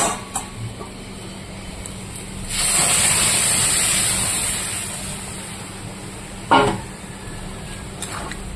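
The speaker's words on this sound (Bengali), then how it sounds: "এবার আমি এখানে সেদ্ধ করে রাখা মটরটা ঢেলে দেব" Boiled peas tipped into a pan of potatoes and soya chunks already frying in spices make a loud sizzling hiss that swells for a couple of seconds and fades, followed by a short sharp clatter.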